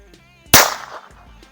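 A single sharp report from an Aguila .22 round fired in a Beretta 21A pistol, one loud crack with a short ringing decay in an otherwise quiet setting.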